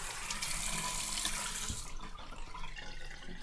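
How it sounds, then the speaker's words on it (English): Tap water runs steadily into a bathroom sink for face washing, a broad even hiss for about two seconds that then thins and cuts off, leaving a quieter trickle and drips. "I like to use lukewarm water when I wash my face at first and cold to rinse and finish everything."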